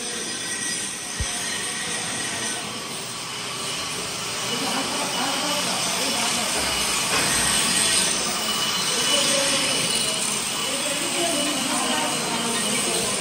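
A steady, even hiss of TIG welding on pipe in a welding training workshop runs throughout, with voices talking nearby.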